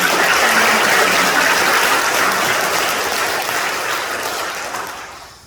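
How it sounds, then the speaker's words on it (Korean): A church congregation breaks into loud, dense applause during a dedication service for a new sanctuary, sustained clapping that fills the room and then tapers off toward the end. "우리 모두 함께 하나님께 영광의 박수 한번 올려드리겠습니다."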